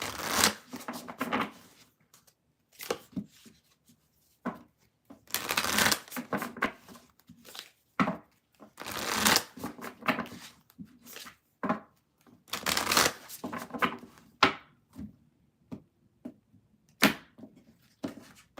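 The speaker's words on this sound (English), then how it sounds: "I'm going to shuffle, read the chat" Repeated bursts of tarot cards being riffled and shuffled, close and crisp, coming in irregular clusters with short pauses between them.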